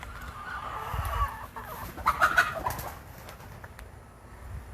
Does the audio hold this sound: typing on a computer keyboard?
no